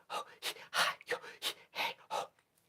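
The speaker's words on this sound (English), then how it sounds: "If I start breathing," Rhythmic breathing through a jaw harp produces a series of about eight breathy, airy pulses, each swelling and fading in a steady in-and-out pattern, close and fairly loud.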